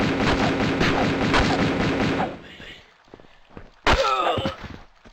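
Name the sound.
gunfire in video game Tomb Raider II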